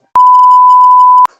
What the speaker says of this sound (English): That whole part right there is gonna be bleeped out.